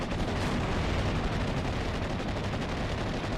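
Tank gunfire and explosions in the WW2 strategy game Steel Division: Normandy 44 form a dense, continuous roar of booming blasts with no gaps, loud throughout.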